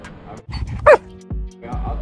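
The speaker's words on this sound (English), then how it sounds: "Oh, there's a little dog or something over there." A small dog barks a few sharp yips at middle distance, spaced irregularly, with a person's voice and handler sounds around them.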